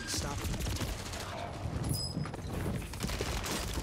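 Gunfire in the video game Call of Duty Warzone on Rebirth Island: a dense, continuous stream of shots and clatter that stays loud and close for the whole stretch, with no clear pauses.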